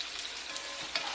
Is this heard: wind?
no